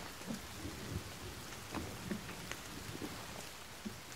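Thunderstorm rain from the video game The Forest: a steady wash of rainfall with scattered low rumbles and crackles of thunder, continuous and fairly quiet with no voices.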